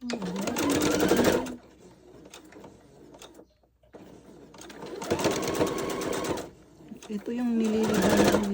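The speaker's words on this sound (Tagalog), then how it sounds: "tinatahi ko yung mga kortina kung mahaba" A sewing machine stitches long curtains in loud, fast whirring runs with short pauses between them, while someone talks over and between the bursts.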